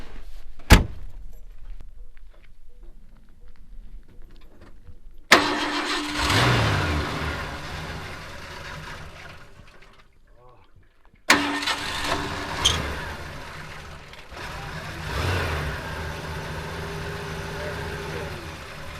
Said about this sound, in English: Now we got to see if it's going to take a while for the engine to start